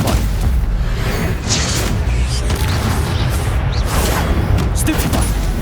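A Stupefy stunning spell fires in Hogwarts Legacy, a dense, steady roar of booming magical blasts and bursts that fills the whole stretch at close range with hardly a break.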